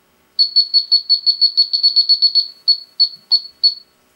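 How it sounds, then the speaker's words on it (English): Elitech LD-100 heated diode refrigerant leak detector sounding its leak alarm: a rapid string of sharp, high, close beeps that runs fast and even, then slows to a few spaced pulses, alone with no other sound. "When a leak is detected, a siren will sound with a rate quite different from previous beep sounds."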